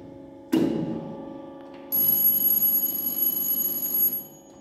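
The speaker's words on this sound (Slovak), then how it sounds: "Ak oba motory nestihajú odčerpávať vodu, zapne sa výstražný alarm." A warning alarm at a water pumping station blares out, a loud electronic tone that starts partway in and sounds steadily for about two seconds over the hum of machinery and a mechanical clunk.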